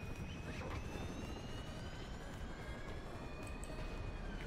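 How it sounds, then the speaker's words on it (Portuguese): Helicopter in the video game GTA 5, a steady engine drone with a whining rotor tone over a low rumble, moderately loud and continuous with no talking. "Pega o helicóptero aí, Jimmy"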